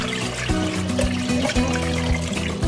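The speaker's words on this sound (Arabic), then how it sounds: "طلعنا اللحم والعظم معانه من الدسك، وهسه راح نصفي المي" Boiled meat and bones are strained, and their cooking water pours out in a steady splashing stream with some low clunks of the pot throughout.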